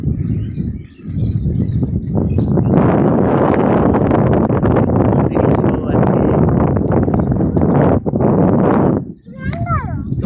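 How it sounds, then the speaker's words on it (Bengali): Strong wind blows by the water and buffets the microphone in a loud, continuous roar for most of the stretch, dipping briefly twice, with a high bird-like call near the end. "একটু বাতাস হচ্ছে, প্রচুর বাতাস"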